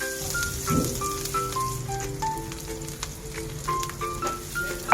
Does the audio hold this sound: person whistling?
no